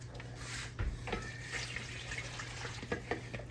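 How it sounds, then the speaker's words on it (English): Water is poured into a crock pot, a soft, faint splashing and trickling with a few light knocks from the pot, close by in a quiet kitchen. "let me pour my water in here"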